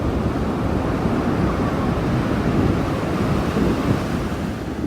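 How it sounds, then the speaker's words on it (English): Steady, dense roar of ocean surf with wind buffeting the microphone, continuous and fairly loud throughout with no voices. "I am closer to the spray of the ocean now."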